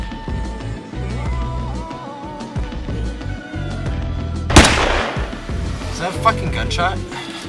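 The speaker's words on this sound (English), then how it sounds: "Fucking gunshot." A single sharp gunshot cracks out loudly partway through, followed by a few fainter pops, amid ongoing talk and background noise.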